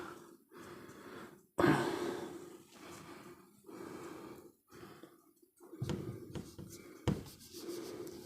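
Marker or chalk scratches across a board during a chemistry lesson come in short bursts with pauses, close and fairly soft, with quiet breathing between strokes.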